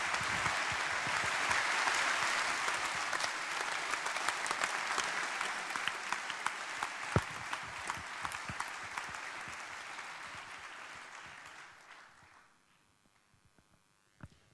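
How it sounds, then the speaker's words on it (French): An audience at an academic opening ceremony bursts into loud, sustained applause that holds steady for many seconds, then fades into a few scattered claps near the end. "on peut les applaudir"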